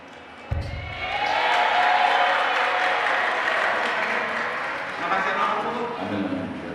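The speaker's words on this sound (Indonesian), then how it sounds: "Oke, tepuk tangan sekali lagi." Sustained applause from a large audience at an Indonesian national-unity gathering held with the PDIP party, starting with a sharp onset and holding steady and dense, mixed with crowd murmur throughout.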